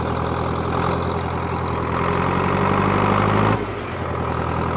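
A John Deere 500A diesel tractor engine that had sat for over ten years, idling steadily with a deep low rumble, then dropping slightly in pitch and level near the end, heard alone without talk.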